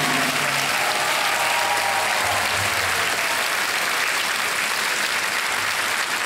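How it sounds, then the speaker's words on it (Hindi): Studio audience at the KBC quiz show, season 11, bursts into sustained, steady applause, a dense wash of clapping filling the room from start to finish. "अब ताली बजी गई तो बोली देते हैं कि ये बिल्कुल सही उत्तर है।"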